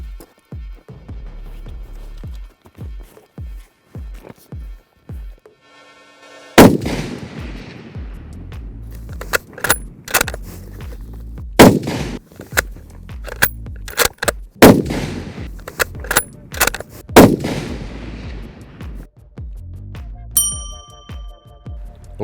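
A rifle fired from prone at 100 yards, with sharp, loud shots spaced several seconds apart, each followed by a rolling outdoor echo, and a faint metallic ring from steel near the end.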